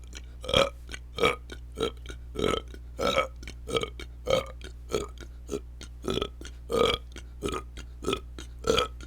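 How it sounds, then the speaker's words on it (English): A rapid string of about fifteen short, resonant burps, evenly spaced and close up, each a brief guttural croak over a low steady hum, with no talking in between. "That was a little burping."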